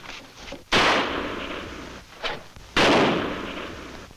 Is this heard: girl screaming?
no